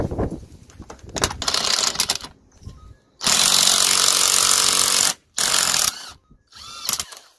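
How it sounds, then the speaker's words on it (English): Bursts of a power tool with a 19mm socket undoing the nut on a Peugeot 207 front top mount, loud rattling hammering in several separate runs, close up. "we're gonna be using a 19mm socket to undo this nut here, to remove the top mount"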